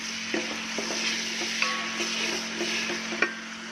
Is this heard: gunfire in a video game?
no